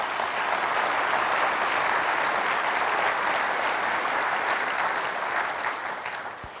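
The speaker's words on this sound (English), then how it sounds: "please join me for a round of applause for our sponsors and exhibitors" A conference audience at a commercial real estate world conference claps loudly for its sponsors and exhibitors, with dense sustained applause filling the hall that tapers slightly near the end.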